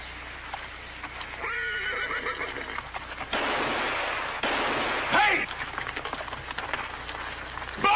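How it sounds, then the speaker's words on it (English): Horses whinny and neigh amid the rush of a stampede in a Western setting, a loud, noisy surge with shrill cries and broad thundering bursts that shift abruptly, with brief voices mixed in. "He's stampeding our horses."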